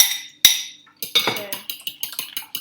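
A whisk clatters against a bowl as ingredients are mixed in a home kitchen, making a quick run of close, bright clinks and scrapes after a first sharp knock.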